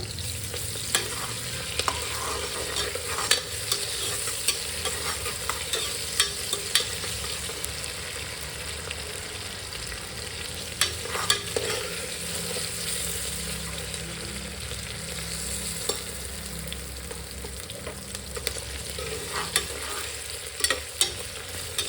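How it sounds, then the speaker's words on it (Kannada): Onions frying in oil in a pan for kushka rice while being stirred: a loud, steady sizzle runs throughout with frequent scraping strokes of a spoon against the pan. "ಸೊ ಅದಕ್ಕೋಸ್ಕರ ನಾವು ಸ್ವಲ್ಪ ಬ್ರೌನಿಷ್ ಬರೋವರೆಗೂ ಆನಿಯನ್ನ ಫ್ರೈ ಮಾಡ್ಕೊತಾ ಇದ್ದೀವಿ"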